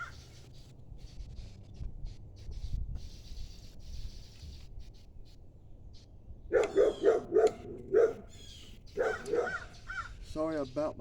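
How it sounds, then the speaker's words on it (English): A full-blooded blue pit bull barks in a garage during a 5.7 Vortec engine teardown, a burst of loud, close barks after a quieter stretch of low background noise, then a few more separated barks. "Sorry about my dog barking"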